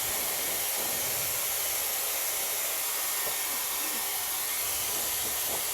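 Dyson Airwrap blowing hot air at full heat and full airflow to dry hair, a steady loud whooshing hiss that runs unbroken throughout, with no voices.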